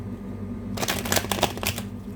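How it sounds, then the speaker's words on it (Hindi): Tarot cards being shuffled by hand, a quick run of crisp riffling flutters lasting over a second after a quiet start, close and clear with no talk. "आ रही है कार्ड्स की शफलिंग की आवाज़"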